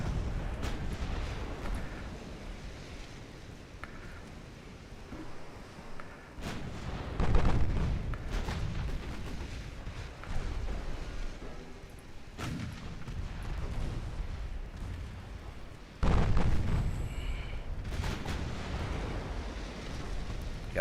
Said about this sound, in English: Got a torpedo detonation